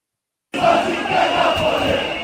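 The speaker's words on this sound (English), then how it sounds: "A crowd of thousands of people tried to storm the city hall building, but they were pushed back by riot police." A large crowd of thousands of anti-government protesters fills the streets of Belgrade near city hall, making a dense, continuous roar of many voices with shouting that cuts in abruptly and holds steady and loud.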